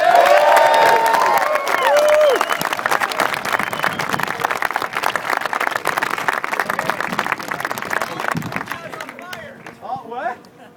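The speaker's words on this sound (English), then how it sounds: "I would perhaps like to give one more round of applause to your corner workers and timers" An audience at a 24 Hours of LeMons endurance race awards gathering at Autobahn Country Club in Chicago claps and cheers loudly for corner workers and timers. Dense clapping and shouts swell, then thin out as voices take over near the end.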